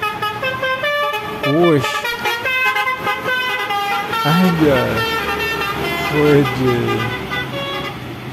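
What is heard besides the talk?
Telolet Basuri horn on bus, version 3 Anaconda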